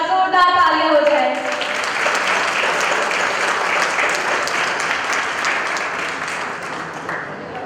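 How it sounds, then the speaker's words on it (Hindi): Loud, sustained applause fills an Ayurveda seminar hall as the audience claps steadily and densely throughout, with a brief voice at the very start. "जोरदार तालियां हो जाए।"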